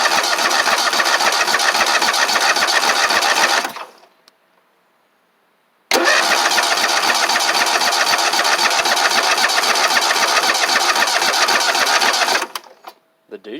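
A Lokithor J400 jump starter powers an engine that cranks loudly in a steady, rapid chugging rhythm for about four seconds, stops briefly, then cranks again for roughly seven more seconds without catching.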